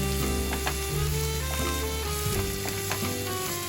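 Poha sizzles steadily in a pan with curry leaves and grated coconut, while a utensil stirs it with a few soft scraping knocks. The sound is close and continuous, and no one speaks.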